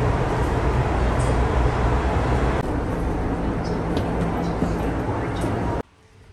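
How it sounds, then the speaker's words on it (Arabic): Broad, steady rumble of a metro train at a station, loud and continuous throughout, cutting off sharply near the end. "انا دلوقتي مستنيه المترو"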